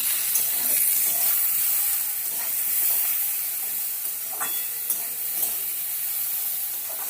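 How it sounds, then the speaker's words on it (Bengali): Eggplant fries in a pan that has been covered, then is stirred: a loud, continuous sizzle with scattered scraping strokes, close and steady, with no talking. "1 মিনিট পরে বেগুনটাকে একবার ঢাকনা খুলে নাড়িয়ে দেবো।"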